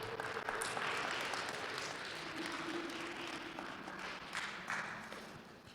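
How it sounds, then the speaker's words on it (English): An audience at a live-streamed Ojibwe community evening event applauds, a faint, distant, sustained patter of many hands that stays fairly even throughout. "Let's get some applause in."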